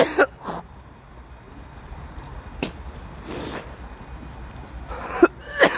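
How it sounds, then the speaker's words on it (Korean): Coughing and throat clearing, several short, rough bursts spread over a few seconds with quiet room noise between them. "제가 기침이 너무 심해가지고"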